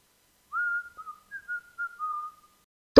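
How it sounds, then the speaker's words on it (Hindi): An Alexa smart speaker plays a whistled tune: a string of clear, sustained whistle notes and short chirps in an otherwise silent room, ending with an abrupt click. "बस बैठे बैठे सीटी बजाने की प्रैक्टिस चल रही थी"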